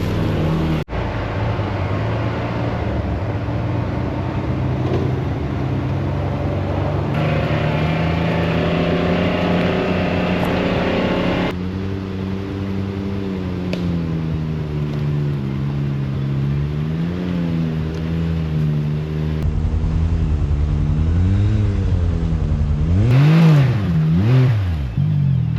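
A UTV engine labors up a steep West Virginia off-road trail, a loud close drone that holds steady, then rises and falls in pitch as the throttle works near the end, with no talking.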